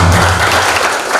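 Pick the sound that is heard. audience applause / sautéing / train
audience applause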